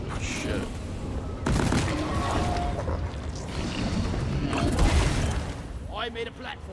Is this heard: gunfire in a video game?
yes